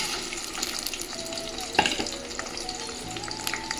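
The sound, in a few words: onions frying in oil for country chicken biryani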